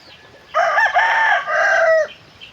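A rooster crows loudly and close, one long cock-a-doodle-doo lasting about a second and a half over steady background noise.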